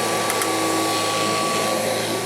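A Kirby Heritage II upright vacuum cleaner with a slightly worn belt runs steadily, a loud, close, continuous whine and roar with a fixed tonal hum and no pauses.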